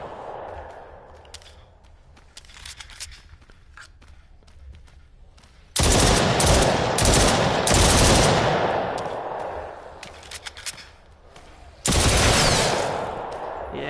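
Gunshots from a firearm in the PSVR game The Brookhaven Experiment, survival mode with an aim controller: loud, dense bursts of close gunfire in two main volleys with a quieter stretch between.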